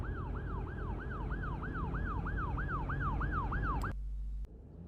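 An emergency vehicle siren wails in a fast, regular rising-and-falling cycle, loud and steady, then cuts off abruptly, leaving a low idling rumble.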